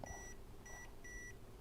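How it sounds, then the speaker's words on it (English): A FNIRSI S1 smart multimeter held near an electrical source gives three faint, evenly spaced electronic beeps of short tones, with a low background hum underneath. "When you pass it over something that is electrical, he will start beeping."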